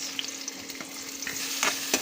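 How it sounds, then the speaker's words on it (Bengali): Chopped onion frying in oil in a wok (kadai) for a shrimp and cucumber curry, giving a steady close hiss with occasional scraping stir clicks and a few louder spatters near the end. "চিংড়ি মাছের তরকারিতে কড়াইতে দিয়ে দিলাম পরিমাণ মতো তেল এবং দিয়ে দিব কেটে রাখা পেঁয়াজ।"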